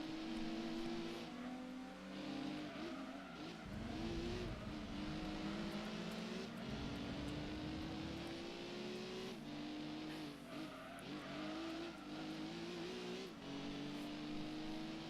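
Toyota Celica race car engine in Gran Turismo 2, a loud, continuous rev that rises and falls through gear changes, with brief tire squeals and no talking.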